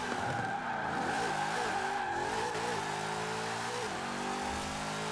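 Ford Mustang Fastback in Forza Horizon 4 drifting, its tires skidding and squealing in a sustained screech over a loud, revving engine whose pitch wavers and climbs, steady and close throughout with no talking.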